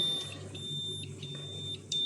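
An EMP detector and radiation dosimeter, just switched off, gives a few faint, short, high-pitched beeps at irregular intervals over a low steady hum.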